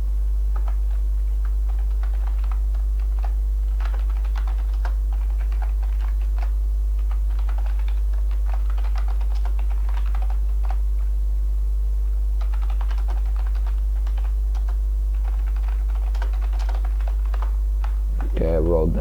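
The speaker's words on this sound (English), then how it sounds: "While I was fighting I was just typing" Computer keyboard typing during a Classic World of Warcraft Protection Paladin run in Lower Blackrock Spire, a steady stream of light, irregular clicks over a constant low hum, with a louder burst near the end.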